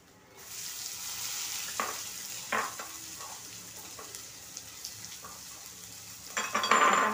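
Onion fries in a pan with a soft, even sizzle, punctuated by a few scattered scrapes and knocks of stirring, growing louder and busier toward the end, with no voices.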